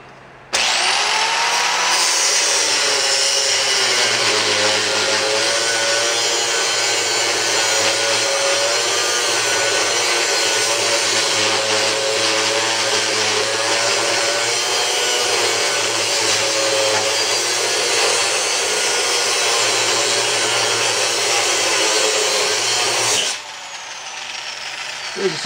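A cutoff wheel grinds through metal while working on a Datsun 521 ball joint, one loud continuous whining, hissing cut held for over twenty seconds before it stops abruptly.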